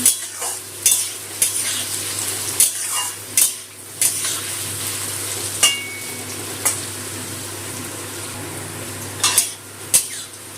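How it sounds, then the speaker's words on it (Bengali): Chopped onion and potatoes frying in a little oil in a pan, a steady close sizzle broken by repeated scrapes and knocks of a spoon stirring against the metal, with no talking. "পেঁয়াজটা একটু আলুর সাথে ভেজে নেব।"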